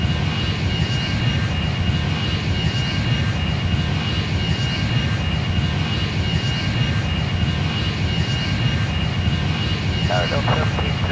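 Boeing 777-300ER jet engines roaring on the takeoff roll in a flight simulator game, a loud, steady, continuous rumble and whine with radio chatter underneath.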